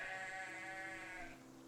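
A goat bleats once on an animated tabletop fantasy map, a single sustained wavering call that fades after about a second, fairly quiet and heard on its own.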